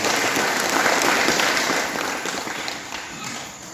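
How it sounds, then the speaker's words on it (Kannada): Loud applause rises from a gathered crowd at a village Basava Purana religious festival, dense clapping that stays steady and then slowly fades toward the end. "ದಾಸೋಹಿಗಳಿಗೆ ಒಂದು ಸಲ ಜೋರಾದ ಚಪ್ಪಾಳೆಯನ್ನು"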